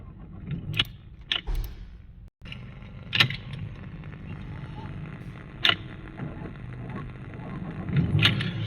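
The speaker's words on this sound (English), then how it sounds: "If you heard that, the car is actually struggling to start in the morning." A Porsche Cayenne 92A diesel with a weak battery cranks sluggishly on a morning start, with several labored starter bursts and mechanical clunks over steady engine-bay noise, while a person talks nearby.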